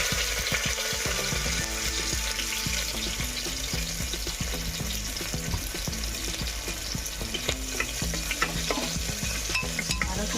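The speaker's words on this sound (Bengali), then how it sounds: "কুকারটা গরম হয়ে গেছে, এখন তেল দিয়ে নিতেছি। পেঁয়াজ আর তেজপাতাটা দিয়ে দিব।" Onion and bay leaf fry in hot oil in a pressure cooker, giving a busy, close sizzle broken by repeated scraping and clicking stirs, with no speech.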